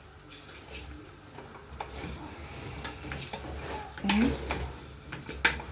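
A spoon stirs pilau beef rice in a cooking pot, giving soft scraping and light sizzling, with a brief clink near the end and a short spoken word.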